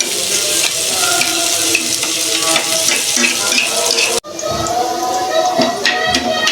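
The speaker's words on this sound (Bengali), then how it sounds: "আমার এখানে মরিচ পেঁয়াজগুলো ভাজা হয়ে গেছে" Chillies and onions sizzle steadily in a hot pan, a loud close crackle of frying with occasional stirring, cut by a brief break before the sizzle resumes.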